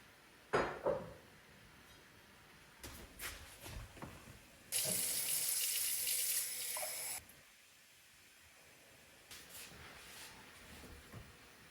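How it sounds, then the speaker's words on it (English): A tap runs cold water into a sink for washing the face before dawn, a steady rushing burst of a few seconds framed by quieter clinks and drips, with no talking. "do wudu, wash my face with cold water"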